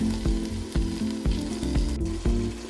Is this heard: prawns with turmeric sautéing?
yes